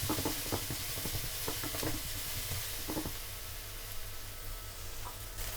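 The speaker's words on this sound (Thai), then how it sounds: "เราก็จะใส่น้ำมันลงไป จากนั้นก็ใส่พริกกับกระเทียมนะคะ ผัดให้ส่งกลิ่นหอม" Chili and garlic stir-fried in hot oil for spicy seafood spaghetti, a steady close sizzle with bursts of spatula scraping and stirring clatter in the first half, then calmer hissing frying.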